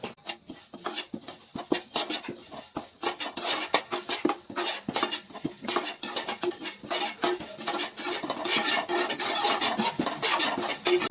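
Cumin seeds are dry-roasted in a pan while being stirred for gongura pickle, a busy close rattle of metal spoon scraping and clinking against the pan with faint crackling underneath.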